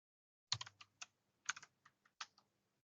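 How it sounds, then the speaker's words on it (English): Quiet, close typing on a computer keyboard while entering input into a C program: a few quick bursts of distinct key clicks separated by short pauses, with no talking. "So let's say I am typing my name"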